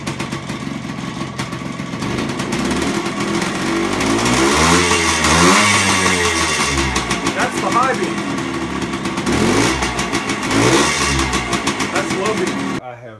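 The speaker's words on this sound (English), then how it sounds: "Let me rev it up." Suzuki Duster TS125 two-stroke motorcycle running on weak 6-volt ignition, its engine revved up and down in loud, close swells of rising and falling pitch over a rough idle.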